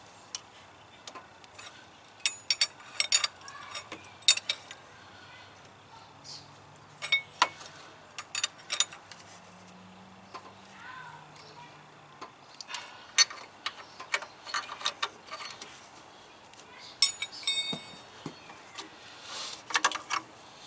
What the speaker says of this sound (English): Drop the socket back on there. Take my wrench